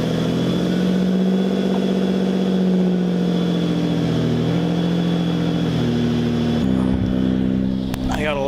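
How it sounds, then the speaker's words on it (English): A lifted Ford Escape idling after a cold start, its engine holding a steady, loud drone with a firm low hum, then shifting pitch near the end as it settles. "Gotta love those cold starts."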